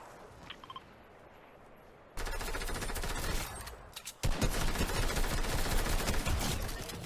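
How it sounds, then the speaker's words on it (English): Gunfire in the Fortnite battle royale game: after a quiet opening, a loud burst of rapid shots breaks out and keeps going, briefly dips, then resumes as a sustained, dense volley close by. "I just heard a shot"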